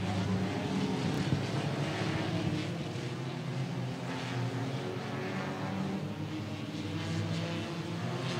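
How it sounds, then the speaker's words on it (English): Race car engine roaring on a dirt oval at Cotton Bowl Speedway during a stock car race, loud and sustained as the throttle is held open, steady engine drone throughout with no clear talk. "He stabs the throttle and keeps it going."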